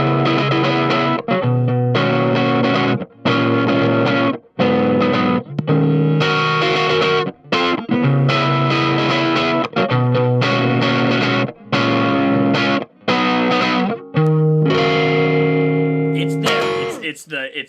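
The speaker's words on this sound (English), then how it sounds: "We got him running with a little bit of drive on it right now, and let's have him play something." Electric guitar with light overdrive running through a buffer pedal that gets switched on partway, played as loud strummed chords and riffs with short pauses between phrases, close and dry.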